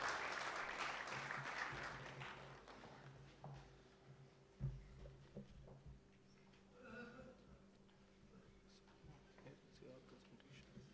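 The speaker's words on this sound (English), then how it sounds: "please give a round of applause for Mr. Sanjay Tripathi, Director Cyber Futuristics and Vice Preside" Applause from an audience at an anniversary conference, clapping loudest at the start and fading within a few seconds, followed by room noise with scattered thumps and a faint voice.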